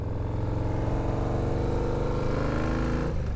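Yamaha Road Star Warrior XV 1700 motorcycle engine running steadily nearby, a deep continuous rumble with a dense low throb that holds even for about three seconds before dipping slightly near the end.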